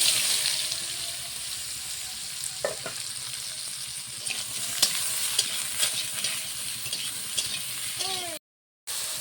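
Eggplant fries in oil in a pan, a close, continuous sizzle with light crackles and occasional stirring scrapes, running steadily until a brief silent break near the end, with no voices.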